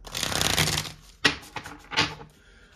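A brisk riffle of tarot cards, then two quick snapping bursts as the deck is squared up, close and fairly quiet.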